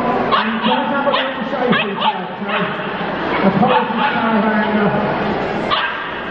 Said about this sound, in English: This is a border terrier.